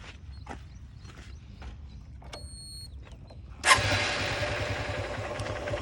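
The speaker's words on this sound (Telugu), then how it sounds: "ఒకసారి బండి స్టార్ట్ చేయండి." A 2018 Honda Unicorn motorcycle with about 50,000 km on it sits quietly with faint clicks and a brief whine, then its engine catches abruptly and settles into a steady, close idle.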